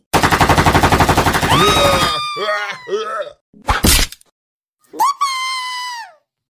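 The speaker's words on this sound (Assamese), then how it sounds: "মাৰি পেলাই সিহঁতক, গুলিয়াই দে" Rapid machine-gun fire in an Assamese horror cartoon, a loud burst of evenly spaced shots followed by wailing, screeching cries and a sharp crash, with short silences between.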